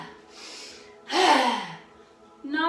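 A sharp, audible breath drawn in during a yoga breathing exercise, a rising rush of air that swells and fades in the middle of the clip, with softer breathing around it and a brief voiced sound at the end.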